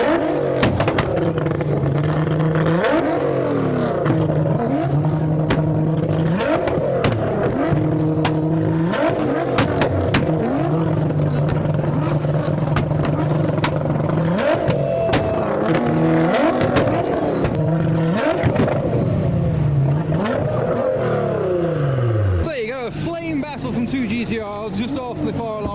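Nissan GTR cars at a car show rev hard again and again, the exhaust popping and crackling with rising and falling engine sweeps; the loud, continuous noise carries through most of the stretch and drops off near the end.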